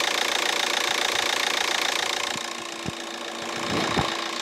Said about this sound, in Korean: 본넷 한번 열어서 엔진 소리 한번 들려드릴 건데요. 확실히 디젤 엔진 때문에 소음은 조금 있습니다.